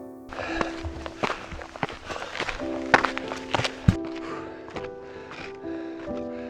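Footsteps climbing a steep hill outdoors, uneven crunching steps close by with heavy breathing, some steps loud and sharp, others soft.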